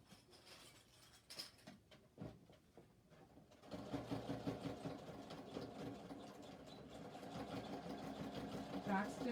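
Sewing machine back stitching the seam of a shoulder bag: a few scattered clicks and handling sounds, then a steady, fairly close mechanical whir of continuous stitching.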